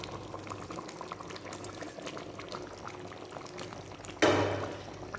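Fried prawns go into a gently bubbling pumpkin and potato curry: a steady low simmer runs throughout, then a sudden loud splash and burst of sizzle near the end that fades slowly.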